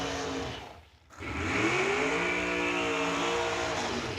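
Drag racing cars roar at a strip: after a brief dip, a loud engine swells into a sustained high-revving, rising howl, near and dominant.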